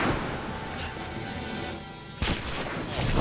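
A sniper rifle fires in Resident Evil 5, one sharp, loud crack cutting through a steady rumble of game noise and fighting.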